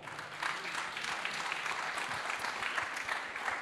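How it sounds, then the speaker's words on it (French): Audience applause for a speaker at a business conference on inequality, a steady wash of clapping from many hands filling the room without a break. "On applaudit Hicham"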